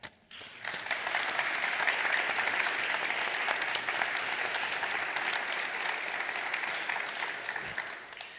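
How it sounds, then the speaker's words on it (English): Sustained audience applause at a university opening ceremony in Barcelona, dense steady clapping that rises quickly after a brief voice and holds for several seconds before tapering. "So a big applause for them"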